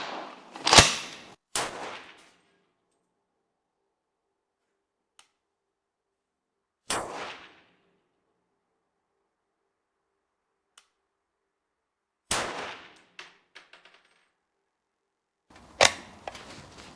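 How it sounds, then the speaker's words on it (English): Zastava M91 rifle with its magazine pulled out and the bolt slamming forward: a handful of sharp, isolated metallic clacks spaced seconds apart, close and crisp against near silence. "when I remove it, the bolt automatically moves forward again"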